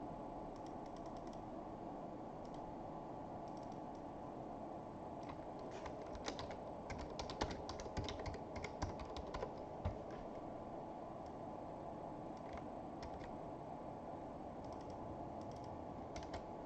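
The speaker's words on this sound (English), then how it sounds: "let me get the keyboard out" A computer keyboard clatters in quick, irregular bursts of keystrokes over a steady background hiss, moderately close, with no talking.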